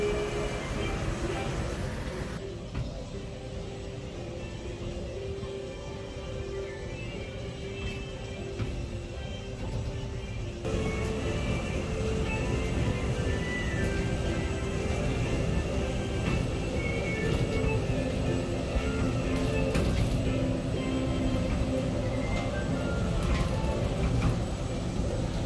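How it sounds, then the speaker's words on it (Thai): Amusement park tram ride at Lotte World in Seoul, a steady rumbling vehicle drone with rattling and mechanical hum throughout, with people talking under it. "นั่งรถรางชมวิว"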